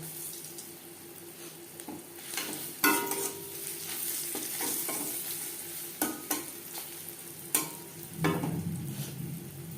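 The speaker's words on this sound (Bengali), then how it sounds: "কালো জিরের সাথে লঙ্কা ভেজে নেওয়ার পর" Green chillies and black cumin sizzle in hot oil in a pan, with a continuous crackling fry broken by several sharp scrapes and clinks of a spoon stirring.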